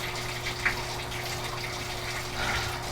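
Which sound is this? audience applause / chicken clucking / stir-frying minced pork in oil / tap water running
tap water running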